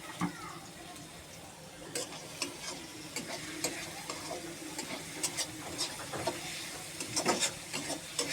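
Onions fry in oil in a pan with a soft steady sizzle, with a spoon scraping and tapping at a fairly regular pace.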